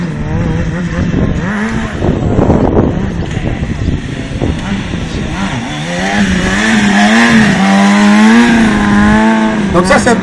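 A stunt motorcycle engine revs loudly and steadily while the rider holds a wheelie at an outdoor show, its pitch rising and wavering over a noisy crowd backdrop.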